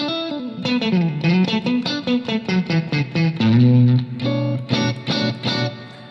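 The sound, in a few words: clean electric guitar with reverb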